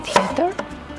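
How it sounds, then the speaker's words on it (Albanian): A second onion being cut on a board, a few quick close knife strikes in a brief burst with no talking. "Presim edhe qepën tjetër."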